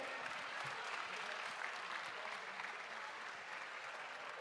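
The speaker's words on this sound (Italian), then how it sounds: "L'applauso per loro." An audience applauds at a live televised concert in Ollolai, steady sustained clapping from a crowd heard at some distance, fairly faint and even throughout.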